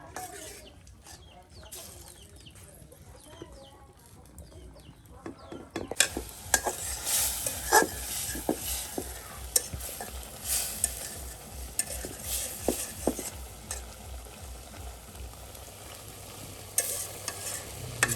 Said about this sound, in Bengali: কবুতরের মাংস কিন্তু একদম প্রায় সিদ্ধ হয়ে গেছে, একদম পানিটা টেনে নিয়ে কিন্তু একদম মচমচে করে ভাজা ভাজা করে নেওয়া হবে